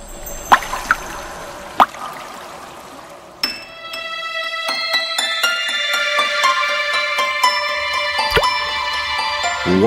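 Water drops plop and drip at uneven intervals, followed by a ringing, resonant trickle that continues steadily with occasional louder splashes.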